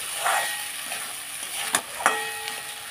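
Khichuri being stirred and sautéed in a pan, with a soft steady sizzle and a few sharper scraping strokes of the spoon against the pan, close and alone.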